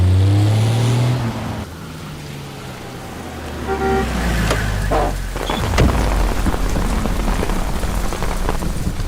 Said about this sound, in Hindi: बारिश होने वाली है